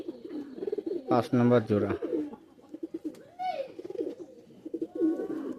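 Neel Dumba pigeons coo in soft, throaty rolling phrases close by, repeated intermittently while someone talks over them.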